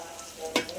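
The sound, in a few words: tiger prawns frying and stirred in pan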